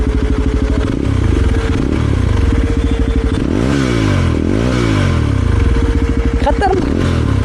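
A Yezdi Adventure motorcycle runs close by with a loud, throbbing engine note, revving up and down in swells and dropping back to a steady idle. Voices talk over it.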